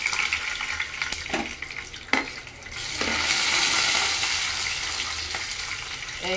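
Peanuts and peas hit hot oil in a pan during samosa filling prep, and a loud, close sizzle swells after a few brief knocks. The hiss then holds steady and bright, with no voices.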